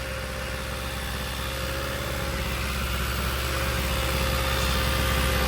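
A car engine idles after a head gasket sealer treatment, a low, continuous rumble that sounds close and fairly quiet and stays steady with a slight rise toward the end.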